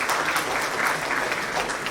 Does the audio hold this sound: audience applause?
yes